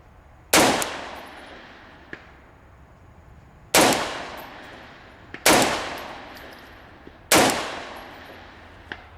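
Four sharp gas-gun shots fired through a muzzle brake, each a loud broadband crack with a decaying ring, spaced a few seconds apart outdoors, with faint metallic clicks between them and no talking.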